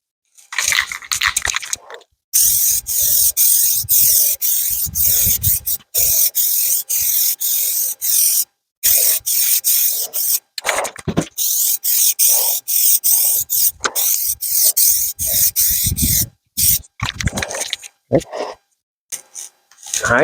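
Spray gun applying a second coat of paint to a car bumper, a loud steady hiss in long bursts broken by short pauses between passes.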